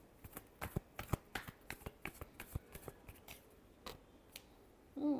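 Tarot cards being shuffled in a rapid run of crisp riffling snaps and flicks, close and fairly quiet, ending in a louder rustle.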